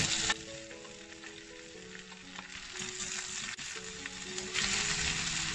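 Curry leaves and red okra sizzle and fry steadily in hot oil in a pan, a continuous close crackling hiss with occasional stirring, with no talking over it.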